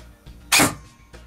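A single sharp burst of noise, a quick snappy semi-automatic shot from an airsoft gun with a Titan MOSFET, close and brief against a quiet background.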